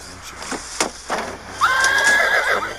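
A horse lets out a clear, loud whinny lasting about a second, preceded by a few muffled knocks and thuds.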